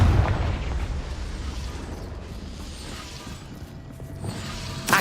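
A Confringo fire spell goes off in the Hogwarts Legacy video game with a deep, rumbling boom that fades into a long, noisy wash. A sharp crack comes at the very end.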